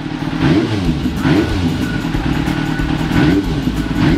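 A 1995 Yamaha YZF 750R motorcycle with a carbon fibre end can exhaust idles smoothly and quietly, its throttle blipped lightly three or four times, each rev swelling briefly before settling back, close by with no talk.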